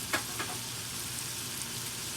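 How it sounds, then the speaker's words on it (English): A steak sizzles steadily in a pan, with a soft continuous hiss and a few faint pops and crackles, and no talk over it. "We're just going to let this simmer just a little bit."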